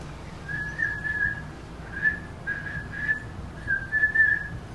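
A person whistles an imitation of an SOS signal, short and longer high tones in a broken pattern, moderately close over a quiet background hum, with no talking.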